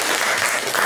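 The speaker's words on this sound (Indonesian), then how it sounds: "tepuk tangan buat Siti." Classroom of students applauding, a brief, close burst of steady clapping from a group of hands.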